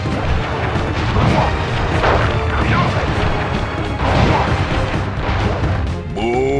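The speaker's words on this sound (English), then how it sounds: "Booming chop!" Cane strikes from the booming chop attack in Sly Cooper and the Thievius Raccoonus crash and thud repeatedly in a dense, loud sequence of smacking impacts, ending with a rising game effect.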